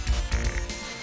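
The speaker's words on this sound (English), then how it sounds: "No, these frogs are everywhere." Frog croaks from the game Castlevania: Rondo of Blood, a few deep throaty pulses in quick succession, loud and close, with a tonal game soundtrack underneath.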